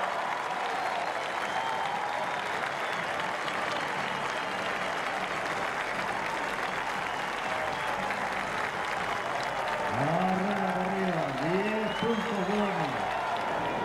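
A rodeo crowd at Chile's 2012 Champion final in Rancagua gives an ovation with continuous broad applause and cheering. An announcer's voice runs over it, rising in pitch toward the end.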